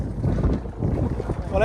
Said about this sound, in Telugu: గాలి చాలా ఎక్కువ ఉంది, చాలా ఎక్కువ ఉంది, మామూలు కాదు గాలి.